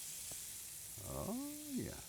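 Butter sizzles and hisses steadily in a hot pan while being slid around, a bright, close frying wash with a voice speaking over part of it.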